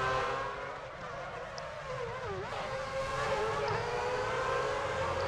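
Formula 1 race cars in F1 2006 scream along at high revs, engine tones rising and falling through gear changes in a continuous, moderately loud whine.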